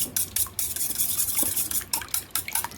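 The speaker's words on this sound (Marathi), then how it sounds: "इथं आपण सहा अंडी घेतल्यात फोडून आता ती फेटून घेऊया" Six beaten eggs whisked in a bowl, quick repeated clinking and sloshing strokes close by, in an uneven rhythm with short gaps, loud and with no talking.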